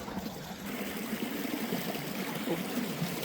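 A waterfall in Glencoe rushes steadily in the foreground, a soft, even trickling and splashing wash of water that carries on without pause.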